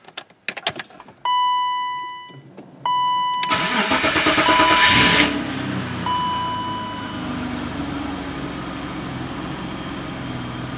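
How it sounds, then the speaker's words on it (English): A BMW E32 735iL with a lumpy idle: a few warning chimes, then the starter cranks and the engine catches with a loud rising roar. It settles into a steady idle, heard alone and close. "So let's start the car."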